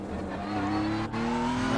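A GT3 race car in a racing video game climbs through Quarry Corner toward Skyline at Bathurst, its engine note rising steadily as it accelerates, with a brief dip in the middle.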